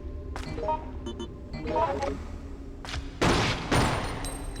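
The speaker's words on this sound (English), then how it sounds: "pot shot with the 45 around the corner. Opening with the 45." Pistol shots from a .45 in the Resident Evil Outbreak video game, fired at zombies: a couple of sharp game-audio bangs near the end, with other in-game clatter and effects before them.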